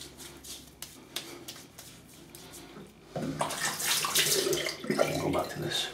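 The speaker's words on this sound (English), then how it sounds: "Okay, let me rinse." A razor is swished and rinsed in a tub of water, with soft sloshing and dripping that grows into louder splashing partway through, close and fairly quiet.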